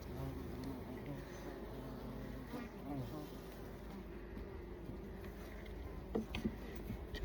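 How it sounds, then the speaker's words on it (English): A bumblebee buzzes faintly near a beehive during a hive inspection, its low drone rising and falling as it moves about. Soft outdoor background noise runs underneath, and a few light knocks come near the end. "we have this bumblebee that's just over here kind of investigating"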